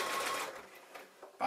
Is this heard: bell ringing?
no